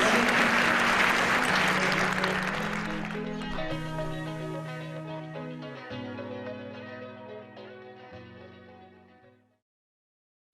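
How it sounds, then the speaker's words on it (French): An audience at an artificial intelligence and industry 4.0 conference applauds speakers, a wash of clapping that fades over several seconds while sustained piano-like music tones continue and then stop. "On les applaudit bien fort."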